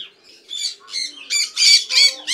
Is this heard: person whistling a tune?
no